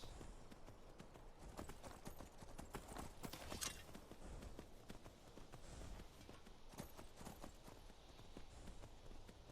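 Hooves pound in a fast, steady galloping rhythm over a constant wash of noise, close and continuous, with no voices; a horse running in the video game Skyrim.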